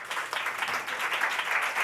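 A conference crowd at a London climate summit applauds, a steady patter of many hands clapping at a moderate distance.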